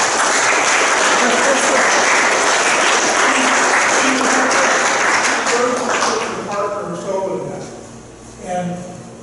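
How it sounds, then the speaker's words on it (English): An audience at a historic property event gives sustained applause, a thick roar of clapping that fades after several seconds as a voice begins talking. "how about some applause for Georgia?"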